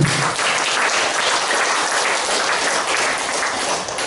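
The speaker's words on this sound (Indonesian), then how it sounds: "Tepuk tangan untuk Pak Basri." An audience breaks into applause, loud, dense and continuous clapping that fills the whole stretch with no voices over it.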